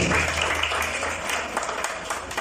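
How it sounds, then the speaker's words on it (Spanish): A church congregation applauds continuously, a dense wash of clapping that holds steady throughout. "Denle un fuerte aplauso a Rey de Reyes y Señor de Señores"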